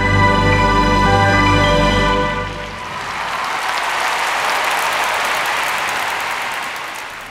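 A figure skating arena audience bursts into broad, sustained applause as the program music fades, the clapping loud and steady for several seconds.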